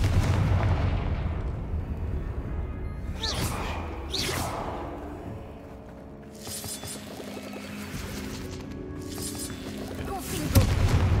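Confringo fire spell cast in Hogwarts Legacy, several sharp blasting bursts with whooshing tails spread across the clip, fairly loud amid game ambience.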